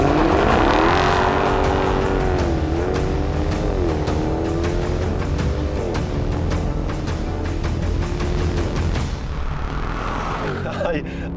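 Mercedes-AMG CLK63 Black Series driving hard, with a loud engine roar that rises and falls through repeated revs and gear changes, heard close throughout.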